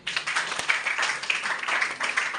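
A live audience bursts into sustained applause at a Solapur training event, dense scattered clapping filling the hall at steady, moderately loud level for the whole stretch with no talk over it.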